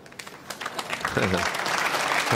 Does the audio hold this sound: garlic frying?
no